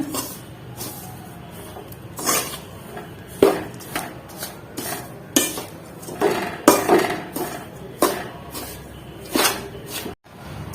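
Dry grated coconut being stirred as it fries in a pan over a low flame, with repeated scraping and clinking of a spoon against the pan in an irregular rhythm, close and fairly clear.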